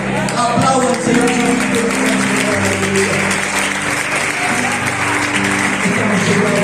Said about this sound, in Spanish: Aplaudan al Señor.